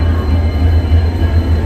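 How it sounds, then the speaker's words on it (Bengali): A train stands at a platform at Howrah station, giving off a loud, steady low rumble and drone up close, alone without talk. "তো আমাদের ট্রেন চলে এসছে"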